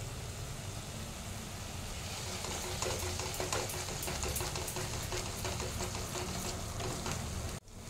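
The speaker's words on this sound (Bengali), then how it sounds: "ফ্লেমটা আমি একটু হাই করে নিলাম, দিয়ে এটাকে ভালো করে কষিয়ে নেব" Crab curry masala stirred and fried in a pan on a high flame gives a steady, even sizzle with repeated scraping stir strokes, close and continuous until a sudden cut near the end.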